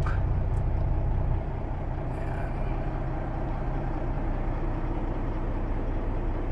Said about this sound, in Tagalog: So ito yung Flying J truck stop